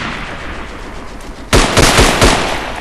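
Gunfire from the WWI shooter Verdun: after a second and a half of low ambient rumble, four or five loud, sharp rifle shots crack close by in quick succession, each leaving a brief echoing tail.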